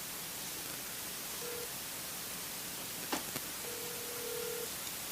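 Two short ringback tones sound on an outgoing phone call, each a brief electronic burr, thin and faint over a steady hiss of line static.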